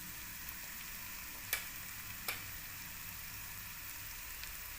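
Asafoetida dropped into hot oil for a spiced drumstick pod dish, a soft continuous sizzle with a couple of faint sharp pops, steady and fairly quiet throughout.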